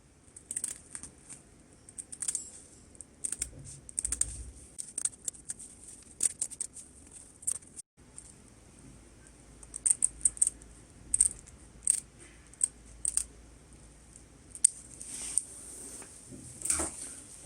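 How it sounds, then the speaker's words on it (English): Scissors snipping through ribbon and Velcro while trimming a ruffled fabric table skirt, heard as scattered sharp close clicks and crinkling rustles, irregular and fairly quiet throughout. "Okay, cut off the ribbon. Cut off the Velcro."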